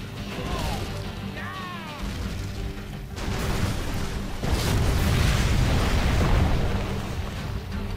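Scud Storm missile strike explosions from the real-time strategy game Command & Conquer Generals: heavy, rumbling blasts swell in from about the middle and stay loud to the end, with a voice talking throughout.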